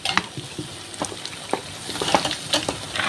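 Ingredients for paneer butter masala sautéing in a hot pan, a soft steady sizzle broken by repeated scraping stirs of a spoon, close and fairly quiet with no talking.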